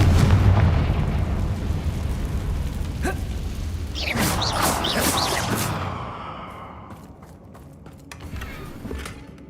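A Confringo spell explosion in the video game Hogwarts Legacy: a loud, booming blast with a rumbling low end and crackling bursts, fading into a lingering tail.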